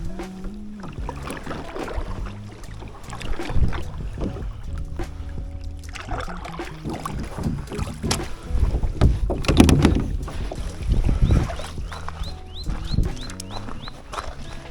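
A canoe or kayak is paddled on Island Lake in the Rocky Mountains of Alberta, with steady water strokes and gurgles under gusty wind noise, close to the microphone.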